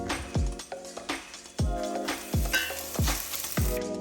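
Food sizzles in a pan while a meal of broccoli, pasta, fish and garlic is cooked, with repeated clattering hits and stirring over a constant frying crackle, close and moderately loud.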